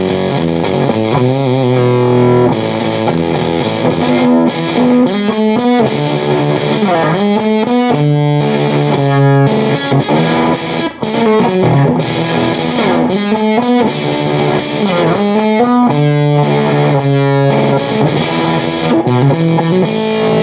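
An electric guitar played through a Blammo Tomb Sender distortion pedal into an amp with its bias turned all the way up, thick and heavy distorted chords and riffs ringing out loud and continuous, with no talking.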